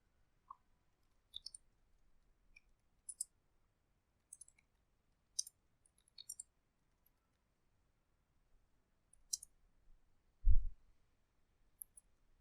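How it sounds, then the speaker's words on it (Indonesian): Light, sparse keystrokes on a computer keyboard, a few quick clicks in small bursts separated by pauses, close and quiet, with one duller low thump near the end and no voices. "Kita bisa ketik seperti ini."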